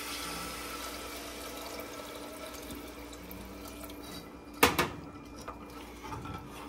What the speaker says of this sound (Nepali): तर पानी हाल्नु अब